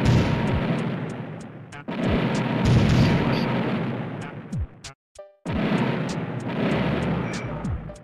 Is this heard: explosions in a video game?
yes